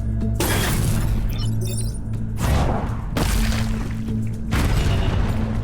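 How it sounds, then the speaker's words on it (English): Explosions in the turn-based strategy video game Into The Breach, two heavy booming blasts with shattering debris over a steady low game hum. "Oh, the explosion."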